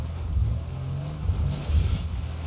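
Lowered VW Saveiro in GTA 5 straining as it accelerates up the game's tallest mountain, a steady low engine drone with slight surges, fairly loud and continuous with no talk.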